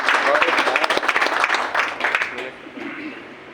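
An audience applauds for Tata, strong dense clapping mixed with cheering voices that fades toward the end.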